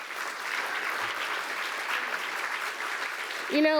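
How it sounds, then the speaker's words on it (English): Steady crowd applause in a hall at a film festival opening night, even and fairly soft throughout, with a short whistle or squeak rising near the end. "A round of applause."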